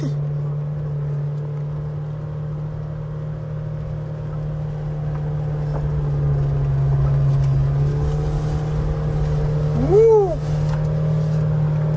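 A Mahindra Thar drives through mud with a steady, droning engine hum that swells slightly as it revs near the end. The sound is loud and continuous, and a brief squeak breaks through.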